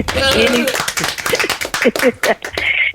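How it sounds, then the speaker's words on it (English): Podcast hosts clap by hand in a short burst of close claps, mixed with overlapping talk and laughter from the people in the room. "So we can just clap"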